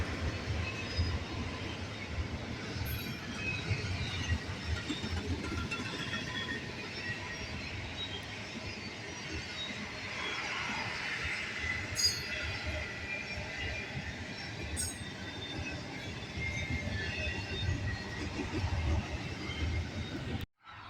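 A Union Pacific Tier 4 freight train rolls past in Ohio, a long steady roar of wheels and cars with occasional metallic clanks and faint squeals, continuous throughout and close.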